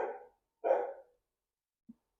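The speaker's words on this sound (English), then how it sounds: "The dogs are barking." Two short, muffled dog barks come from somewhere else in the house, followed by a faint little yip, with quiet gaps between them and no voices.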